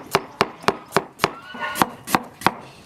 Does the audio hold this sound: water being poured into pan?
no